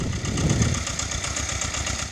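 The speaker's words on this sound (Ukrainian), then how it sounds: "Шум трактора глушить періодичні звуки пострілів з боку кордону." A tractor engine runs steadily while digging potatoes in a village garden plot near the border, with close, loud mid-range chugging and a knocking rhythm.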